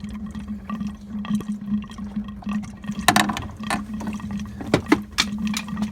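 Coolant gurgles and trickles steadily out of a BMW cooling system with a stuck-open thermostat, with intermittent splashes and drips over a low hum, draining nearby.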